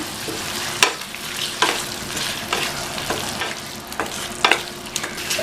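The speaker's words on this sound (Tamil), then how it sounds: "இந்த பணியாரத்தை இதில் சேர்த்துட்டு நல்லா பரட்டி விடணும்" Paniyaram tossed through simmering masala in a pan, a steady sizzle broken by repeated scraping stirs and clinks of the spoon against the pan, close and fairly loud with no voices.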